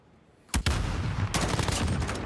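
Gunfire in a Call of Duty League 2020 match: a sharp double shot with a brief crack, then a sustained burst of rapid firing that keeps going, loud and close, with no talking over it.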